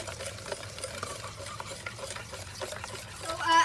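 Whisk stirring hot milk into beaten eggs and brown sugar in a bowl for a floating islands custard, a soft, continuous liquid swishing with faint clinks, close and fairly quiet.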